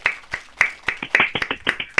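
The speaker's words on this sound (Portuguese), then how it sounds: "Palmas pra mim." Quick, irregular hand claps, about a dozen in two seconds, fairly close and sharp, with no one talking.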